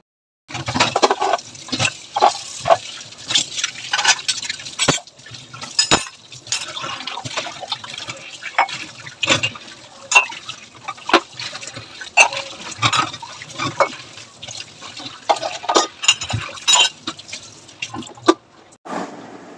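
Dishes washed under running water in a home kitchen, close splashing and dripping with clinks and knocks of utensils, irregular and loud throughout.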